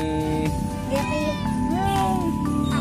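A cat meows repeatedly, loud and close, with several drawn-out cries in a short burst.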